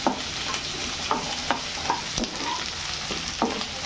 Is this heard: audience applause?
no